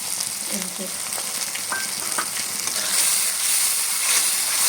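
Spice paste with oil frying and being stirred in a pan while cooking a Bengali eel fish curry; a steady close sizzle runs throughout with occasional scraping stirs, growing slightly louder toward the end.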